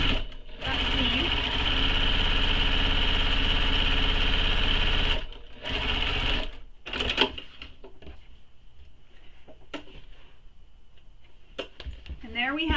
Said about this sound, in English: Now I'm going to top stitch that seam.